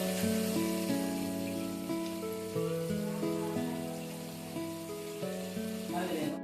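Whole spices and aromatics tempering in hot oil for a Telangana-style spicy mutton curry, with turmeric and salt just added, give a steady crackling sizzle beneath prominent background music throughout.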